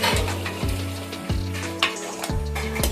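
Mutton curry cooking Telangana style in a pot, a steady close bubbling sizzle with soft clicking pops and a few faint metallic knocks throughout.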